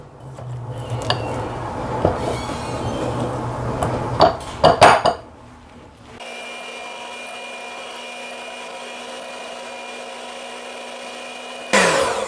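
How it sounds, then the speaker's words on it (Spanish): Spatula scraping the edges of a mixing bowl of oat cookie dough, a few clattering scrapes and knocks against the bowl, followed by a steady mixer motor hum. "con la ayuda de una paleta vamos a venir y vamos a mover todas las orillas para que todo se mezcle muy bien"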